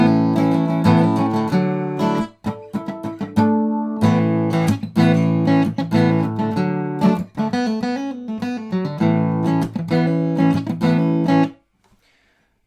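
Acoustic guitar playing the fourth part of a song, close and solo, a flowing mix of strummed chords and picked notes with short breaks before ringing out and stopping.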